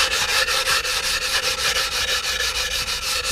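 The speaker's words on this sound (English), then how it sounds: "Use a diamond hand pad just like this." A 60-grit diamond hand pad rubs along the cut edge of a mitered tile, giving a loud, rhythmic rasping scrape in even back-and-forth strokes close by, with no voices.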